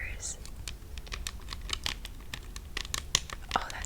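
Sheets of stickers handled up close, giving soft crinkling and papery crackles with scattered small taps and rustles throughout, quiet and intimate in a gentle whispered setting.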